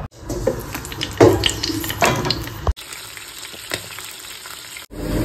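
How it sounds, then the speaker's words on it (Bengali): Eggplant slices fry in a home kitchen pan, giving a loud, continuous sizzle with crackling spits and clanks from handling, followed by quieter stretches of steady frying. "আর বেগুনটা এখন ভাজা হবে, আপনাদের দাদাভাই ফ্রাই করছে।"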